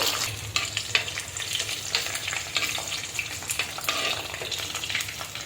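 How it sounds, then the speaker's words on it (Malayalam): Garlic and mustard seeds frying in hot oil for a pepper-spiced mackerel curry, with a steady close crackling sizzle and occasional stirring scrapes throughout. "വെളുത്തുള്ളി മൂപ്പിച്ചെടുക്കാം"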